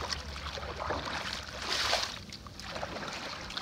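Kayak paddles dip and swish through calm water in Ha Long Bay, soft splashes and trickling drips rising and falling over a few seconds, close and fairly quiet.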